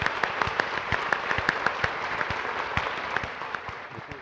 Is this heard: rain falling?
no